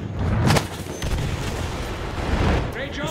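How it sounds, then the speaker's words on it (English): Heavy artillery fire in Battlefield 1, deep booming shots and rumbling gunfire, with a voice speaking briefly over the din. "Heavy ass artillery."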